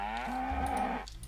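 Cows in a Minecraft modpack video game give a single drawn-out synthetic moo, loud and clear over a steady low background hum.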